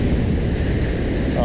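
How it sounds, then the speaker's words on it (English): Surf and waves rolling onto a beach with a strong current, a steady broadband wash of water mixed with wind noise on the microphone, continuous and fairly loud throughout. "Along with these waves, this should be fun."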